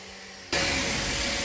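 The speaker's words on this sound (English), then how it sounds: "I sanded off everything with the sanding disc number, grid number 220" A sanding disc with 220 grit runs across a Corian bathroom countertop, starting abruptly and then holding as a loud, steady, broad hiss up close with no pauses.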